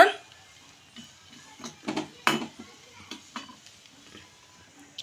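Cashews and raisins fry in hot ghee for semiya kesari, a soft sizzle under a series of close metal spoon clinks and scrapes against the pan.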